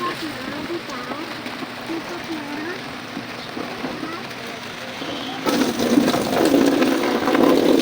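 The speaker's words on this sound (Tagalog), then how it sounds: "Ulan na naman ano" Steady rain patters on a surface, growing heavier and louder toward the end, with faint background voices under it.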